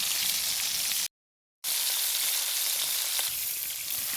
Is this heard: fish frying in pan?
yes